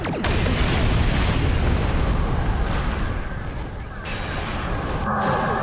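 Starship phasers and torpedoes firing in a Star Trek space combat game, a dense, loud, continuous barrage of booming blasts and bursts that fills the whole stretch with little letup.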